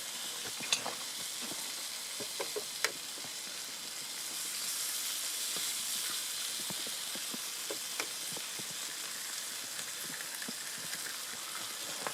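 Gammon and mushrooms frying on an EcoZoom stove give a steady close sizzle and crackle, with occasional small pops and light scraping from stirring, and no talk.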